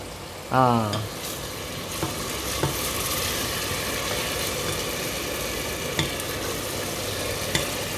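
Garlic drops into a hot frying pan and sizzles in a steady, dense hiss that lasts throughout, with a brief tonal clatter at the start and a few faint knocks later.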